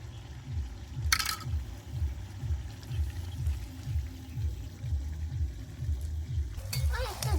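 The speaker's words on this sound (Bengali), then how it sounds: "এবার পকোড়াটা দিয়ে দেব। কর্নফ্লাওয়ারটা গুলে রেখেছি, এবার কর্নফ্লাওয়ারটা দিয়ে দিচ্ছি।" Chicken pakora fries in a pan for chilli chicken as a cornflour slurry is added, giving a steady close sizzle over a rhythmic stirring scrape, with brief clattering bursts near the start and end.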